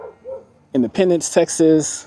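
Someone speaks briefly outdoors in the rural ghost town of Independence, Texas, while dogs bark nearby, several sharp yappy barks overlapping the end of his words.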